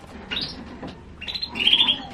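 A small songbird gives a few bright, high chirps and short trills, close and clear over faint background noise.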